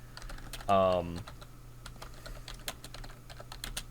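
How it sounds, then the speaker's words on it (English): Quiet, rapid clicking of keys on a computer keyboard runs throughout, with a brief voice near the start. "that typing is coming through really loud"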